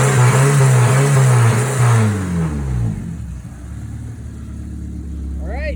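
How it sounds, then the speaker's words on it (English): A Porsche 968 race car engine revs hard, rising and falling loud and raspy, then settles back into a deep, steady idle, close by. "So I'll give it a couple revs here."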